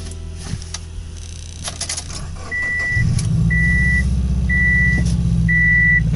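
A Subaru Forester XT engine cranks and catches about halfway through, settling into a steady, loud idle close by, while four short, evenly spaced electronic chimes sound over it. The car has a check engine light on.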